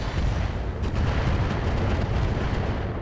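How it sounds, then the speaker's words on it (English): Dense, continuous rumbling blasts from airstrikes in the BattleTech mod RogueTech, a broad roaring barrage with no gaps, loud and close throughout with no talk over it. "So that's an airstrike."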